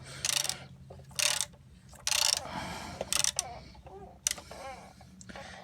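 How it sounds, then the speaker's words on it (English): Ratchet and socket tightening a radiator hose fitting during a 2014 Ford Escape radiator and cooling fan replacement, heard as several short bursts of rapid metallic clicking separated by brief pauses, close and fairly loud. "I'll go ahead and tighten that with my other smaller ratchet and socket"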